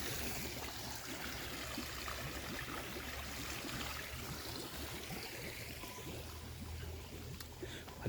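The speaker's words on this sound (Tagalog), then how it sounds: "Bugno kay ang tubig." A strong stream current rushes across a family farm in Davao, a continuous moderate gurgle and wash of flowing water with no talk over it.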